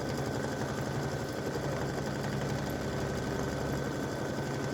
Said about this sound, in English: So I'm doing a blue satin stitch around the edge.